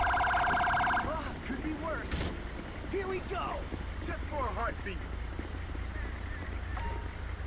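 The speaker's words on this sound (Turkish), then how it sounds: "Okey bir ambulans daha geldi." A wailing ambulance siren from the video game GTA 5 rises and falls beneath a steady low engine rumble, with a person talking over it.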